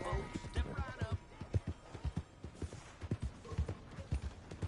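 Horse hooves clip-clop in a steady rhythmic gait in a video game, with close, evenly spaced thuds and a brief creak near the start.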